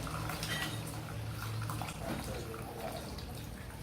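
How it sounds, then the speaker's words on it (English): Salty water drained from demonyo sauce through a sieve, a steady splashing and trickling pour with faint clinks of the sieve and kitchenware, continuous and close. "I'm going to drain off the salty water off it now"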